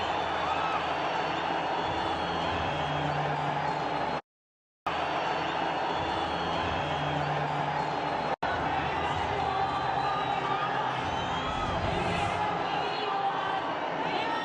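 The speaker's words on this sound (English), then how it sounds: "The crowd has found its voice again." Cricket crowd at a Nepal vs Italy match roaring and cheering in a dense, sustained wash of noise, broken by a brief dropout, with commentary voices under it.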